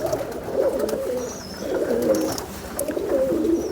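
A pet pigeon coos in repeated soft, throaty phrases close by, low warbling calls rising and falling in a steady rhythm with no speech over them.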